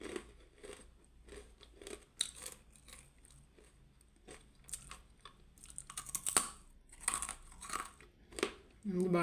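Someone crunches on pilipit, a crispy fried twisted snack, with irregular close crackly bites and chewing over several seconds, while voices talk intermittently.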